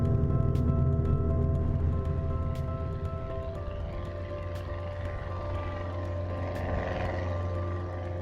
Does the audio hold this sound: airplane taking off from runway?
yes